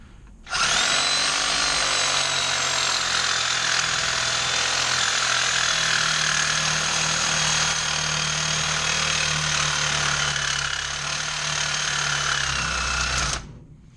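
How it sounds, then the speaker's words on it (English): A reciprocating saw fitted with a bimetal blade cuts straight through an inner ring in one loud, steady, buzzing run of about thirteen seconds, starting and stopping abruptly, with no talk. "So I'll use a reciprocating saw with a bimetal blade and just cut straight through it."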